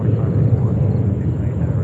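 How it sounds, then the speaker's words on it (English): A Boeing 777-300 airliner taxis toward runway 4 Left at JFK airport in New York, giving off a steady, continuous low engine rumble that holds an even loudness throughout. "we have Zodiac coming up here with a big boy. 777-300. Making its way to runway 4 left."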